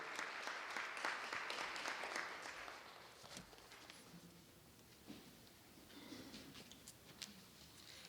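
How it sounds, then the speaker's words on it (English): Audience applause at a human rights awards ceremony, a dense patter of many hands that is loud at first, then thins and fades to scattered claps with some room noise. "Will you give her another round of applause for these accomplishments"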